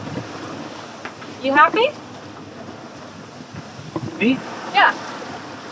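Wind blows steadily while sailing a reefed boat near the Canary Islands in strengthening breeze, a constant low rush of wind noise with brief conversation heard over it.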